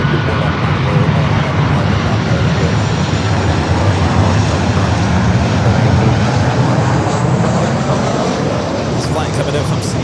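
An Airbus A350-1000 airliner pushes back from the gates at Los Angeles airport, heard as a loud, steady jet engine roar and broad rumble lasting throughout.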